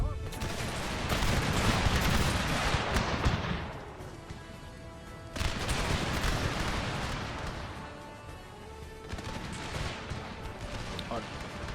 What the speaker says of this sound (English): See the artillery fire on that.